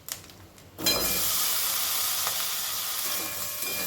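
Sliced ridge gourd dropped into a hot pan of oil, prepared for a ridge gourd prawn malai curry, sets off a sudden loud sizzle after a brief quiet moment, and a steady bright hiss then carries on through to the end.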